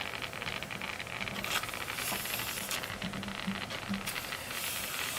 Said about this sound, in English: The steam's really coming out here now.